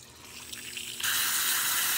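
Water suddenly starts rushing in after a brief quiet moment, then pours steadily and loudly as a 1996 Whirlpool direct-drive washing machine fills with cold water.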